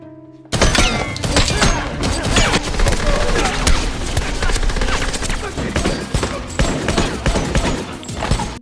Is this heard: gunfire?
yes